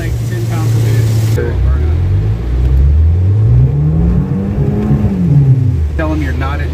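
A worn turbocharged car engine running about 10 psi of boost revs hard, its loud, near tone rising and falling in smooth sweeps over a low rumble, with a voice talking briefly at the start and end.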